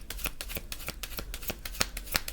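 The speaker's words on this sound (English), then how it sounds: "Some people like to see the cards, the shuffling, and pick the cards together" Playing cards are shuffled during a reading, giving a rapid run of crisp riffling flicks and snaps. They are close and fairly quiet, with no talking.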